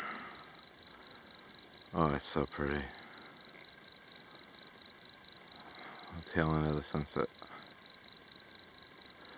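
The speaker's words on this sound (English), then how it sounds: "These are crickets." A steady, shrill chorus of crickets trills continuously at moderate distance at dusk on the Pacific Crest Trail, while a person speaks briefly over it twice.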